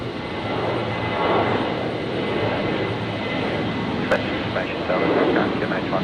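Qantas 541 airliner rolling for takeoff at Brisbane International Airport, a loud continuous broadband engine roar from a distance with a steady rushing texture and brief faint radio chatter.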